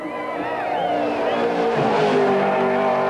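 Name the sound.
race car lapping at 1991 Bathurst 1000 shootout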